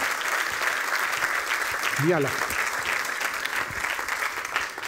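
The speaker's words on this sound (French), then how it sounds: "Merci de lui faire un tonnerre d'applaudissements." A dense wash of audience applause at an awards event for the best watches of the year, steady throughout, with a short spoken exclamation cutting through midway.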